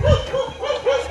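A dog barks on a hiking trail in Taipei's hills: a short series of four or five sharp, evenly spaced yaps, fairly close and clear.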